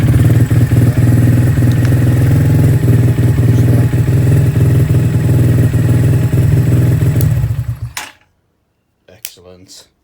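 Lexmoto ZSB125 125cc motorcycle with its ignition back on, its single engine running with a steady close-up mechanical idle for about eight seconds, then cutting off into quiet broken by a few brief knocks.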